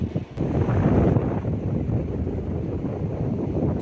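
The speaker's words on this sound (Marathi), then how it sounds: "वाऱ्याचा हा अखंड असा चाललेला मधुर ध्वनी" Steady wind buffets the microphone in a continuous rushing roar, with a faint wash of surf beneath it, at Thal beach, Alibag.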